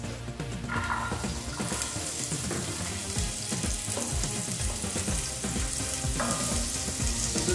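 Onions frying in a teaspoon of extra virgin olive oil in a pan for a Nigerian meat pie filling, a steady loud sizzle running throughout with occasional stirring clatter and no talk.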